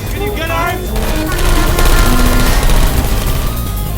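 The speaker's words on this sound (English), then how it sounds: "I heard gunfire!" Rapid turret gunfire from the video game Portal 2 rattles loud and continuous, dense bursts layered with game effects and a voice calling out, filling the whole stretch.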